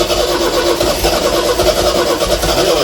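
An MGB GT engine fires up for the first time in fifteen years, settling into a loud, steady, rough running note with continuous mid-range drone and low rumble throughout.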